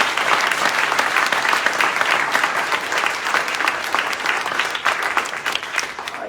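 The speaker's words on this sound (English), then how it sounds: "please, a hand of applause to the voters of Ulster County" An audience applauds the voters of Ulster County at a sheriff's swearing-in ceremony, with dense, steady clapping that holds at an even level for the whole stretch.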